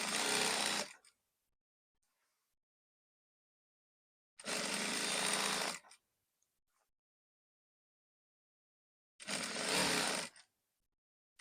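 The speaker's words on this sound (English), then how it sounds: "I'm going to stitch this way, right side facing right side." A sewing machine stitches a kaftan dress seam in three short bursts, each lasting about a second, with near silence between them.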